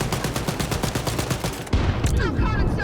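An enemy gunner in Wolfenstein: Youngblood fires a rapid, evenly spaced machine-gun burst close and loud, then the burst breaks off into a heavier impact and rumbling combat noise.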